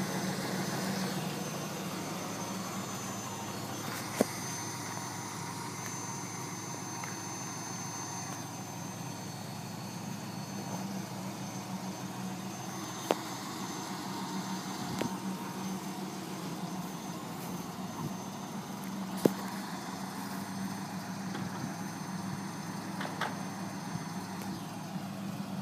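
A 1997 Chevrolet Camaro Z28 convertible idles with a steady, low engine rumble that holds even for about 25 seconds, broken only by a few faint clicks.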